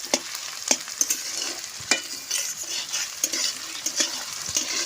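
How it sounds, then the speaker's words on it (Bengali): Chopped onions fry in oil with cumin for a home-cooked mutton curry, a bright crackling sizzle up close, with repeated spatula knocks and scrapes against the pan at an uneven pace. "দিয়ে দেবো পেঁয়াজ কুচি। আমি লালচা করে ভেজে দেবো।"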